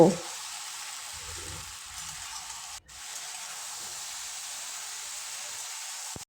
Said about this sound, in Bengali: তিন থেকে চার মিনিট আমি কুলটা এভাবে নাড়ব